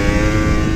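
A 2015 Yamaha YZF R1 motorcycle pulls hard through a brief burst of loud, steady engine roar with dense harmonics, close and continuous, without any talk over it.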